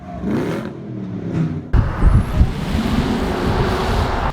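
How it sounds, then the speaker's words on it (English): Strong wind gusting outdoors, roaring and buffeting the microphone loudly throughout, with a sharp surge in force about halfway through that stays rough and steady afterward. "As you can see, it's extremely windy here"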